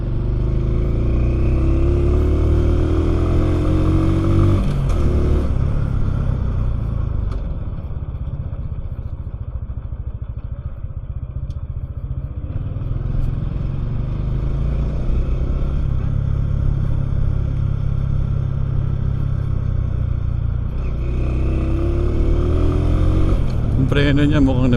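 A motorcycle being ridden, its engine droning loud and close with rising and falling revs, easing off midway before climbing again, under wind buffeting and occasional speech.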